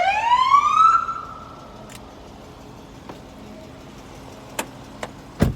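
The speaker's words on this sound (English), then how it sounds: "And then we got the siren." A police car siren box sounds a brief rising wail that fades within a second, followed by quiet, with a few faint clicks afterward.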